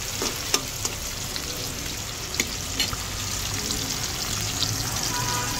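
Tomatoes cook down in a pan for a Filipino dish, giving a steady close sizzle with scattered sharp clicks and stirring scrapes under a constant frying hiss, no talk.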